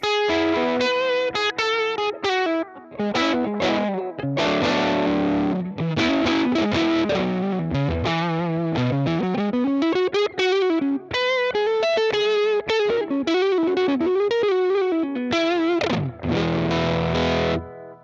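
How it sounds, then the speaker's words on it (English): Guitar through a UAD Fender Tweed '55 5E3 Deluxe with the tone turned up on the mic volume gives a dark, fuzzy, distorted lead line, with continuous bending notes and fast runs played alone for about eighteen seconds. "So it's almost like a very Velcro-y fuzz at that point"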